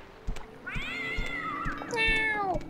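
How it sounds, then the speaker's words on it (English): Cats from a mod in the video game Morrowind meow twice in close succession, drawn-out whining cries over a background of soft thumps and clicks. "those cats. Yeah, the sounds of the mod are sometimes funny, sometimes really, really annoying"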